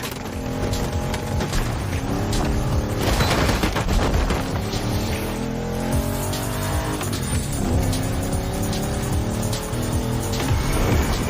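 A 1970 Dodge Challenger R/T in The Crew Motorfest revs loudly and continuously, its engine note shifting through gears, with tire squeal and skidding blended in over a busy background.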